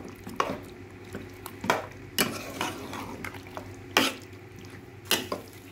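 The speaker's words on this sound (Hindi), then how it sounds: "देखिए जी हमारे मसाले का सारा चिकन हो गया मिक्स" Chicken being stirred through yogurt and masala in a pot, a spoon scraping and clinking against the sides in irregular bursts, with a soft steady background hum and no talking.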